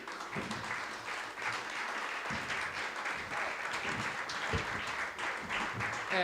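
Audience on stage at a Sardinian music event applauding a performer, steady dense clapping from a crowd throughout, fairly far off and moderately loud, with some voices mixed underneath.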